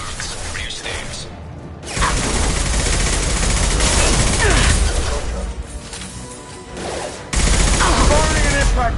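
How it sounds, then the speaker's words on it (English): Mass Effect 2 combat gunfire with an impact shot: loud, close bursts of rapid shots and heavy impacts in chunks, with brief gaps between volleys. "Firing an impact shot."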